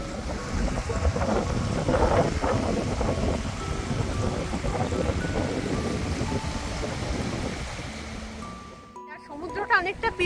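Cold wind at a seashore with trawlers offshore buffets the microphone as a rough, gusty roar that fades toward the end, then gives way to a person speaking.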